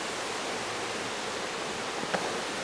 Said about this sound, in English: This is one part of the stream